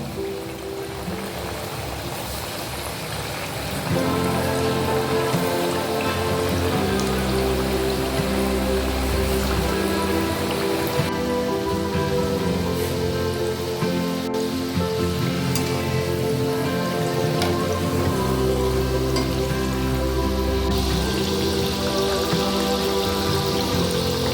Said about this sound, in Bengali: এখন আমি একে একে পিঠেগুলোকে ভেজে নেব।